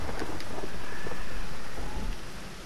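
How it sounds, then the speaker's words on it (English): Rain hitting a truck in The Last of Us, a dense, steady hiss of drops with a low rumbling undertone, loud and continuous before easing slightly at the end, with no speech. "The sound of the rain hitting on the truck."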